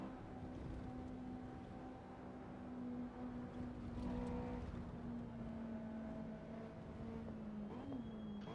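Honda S2000 lapping Bathurst in Assetto Corsa EVO, a steady droning engine note holding an even pitch throughout, with a brief rise near the end, continuous and fairly close, no voices.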